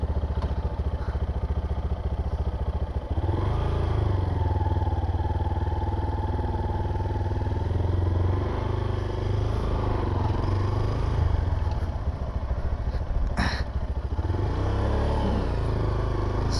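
A Monarch Tempest 250 motorcycle engine drones loudly and continuously during a test ride, with the pitch rising and falling as it revs and shifts, plus a brief clattering bump near the end.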